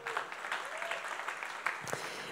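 A church congregation claps for Vince at a Sunday service, a short dense burst of applause with a few louder claps standing out near the end.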